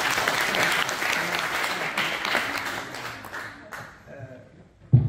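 An audience at a closing ceremony for an artisan crafts training course claps steadily in a loud, dense wash of many hands, tapering off toward the end as a voice begins over the fading clapping.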